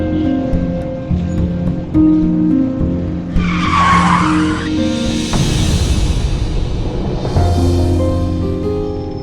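A car's tires screech loudly as it skids to a sudden stop in front of a girl, a long harsh squeal with rising and falling noise bursts, dramatic and close.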